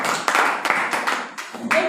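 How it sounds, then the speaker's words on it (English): Audience at a Toastmasters leadership speech applauding to welcome the speaker: a burst of sharp, uneven claps from a small group, close and loud, tapering off briefly before a final few claps. "with a warm applause, let's come and welcome Abdulaziz Akanji."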